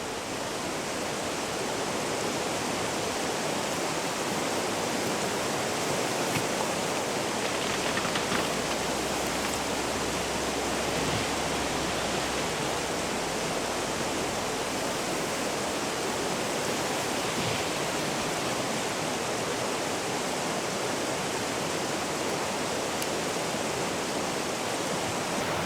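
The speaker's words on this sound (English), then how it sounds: "mountain stream quickly turns into a rushing torrent. It flows well over the banks." A Tatra Mountains stream swollen into a rushing torrent gives off a steady, unbroken roar of churning water at constant volume throughout, with no voices.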